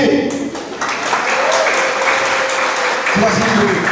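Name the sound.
applause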